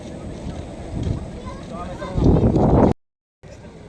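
Strong wind gusting past high towers outdoors, a rough broadband rush that swells louder toward the end before cutting out briefly, with people talking faintly underneath.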